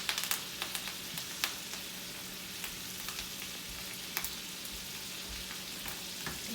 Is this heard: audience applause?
no